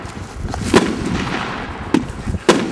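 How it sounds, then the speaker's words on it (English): 3-inch cylinder salutes fired from mortars, bursting as sharp loud bangs: one near the start, then two more close together toward the end, over a steady outdoor background rumble. "It's a cylinder salute."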